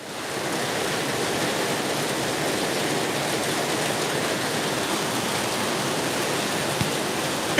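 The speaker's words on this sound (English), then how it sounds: "It's pouring and we're still streaming." Heavy rain pours down outdoors in a dense, unbroken hiss, steady and loud throughout with no voices.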